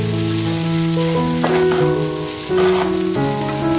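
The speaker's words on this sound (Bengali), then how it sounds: "চালটাকে সবজির সঙ্গে খুব ভালো করে কষিয়ে নিতে হবে।" Shyama rice and vegetables fry in oil in a pan with a steady, even sizzle, broken by a few soft stirring scrapes; close and alone, with no talk.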